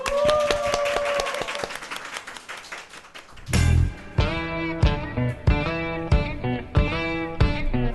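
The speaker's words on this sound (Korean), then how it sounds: "큰 박수 맞이해 주세요" An audience applauds at the opening of a Korean media activists' special 600th-episode show, a crowd of claps in the first seconds giving way to a loud, punchy musical jingle with strong beats.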